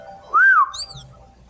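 A whistle is blown once: a loud, close single note that bends up and back down over a fraction of a second, followed by a brief higher chirp and then quiet.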